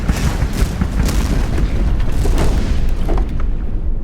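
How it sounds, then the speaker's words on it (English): A loud, dense roar of booms and bursts in quick succession, like rapid game explosions layered over a continuous rumbling background. "Explosions tend to happen, out at sea."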